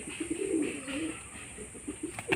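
A long, warbling coo from a Madras pigeon of an old domestic line, followed by a few softer, shorter calls, near and fairly clear.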